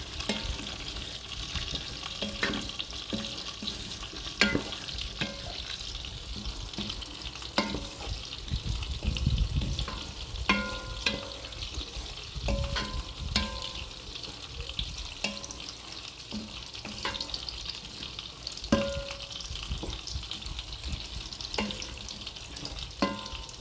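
Rice, vegetables and pork ribs simmer in a pan with hot water as a spoon stirs, producing a steady bubbling sizzle marked by repeated scrapes and knocks.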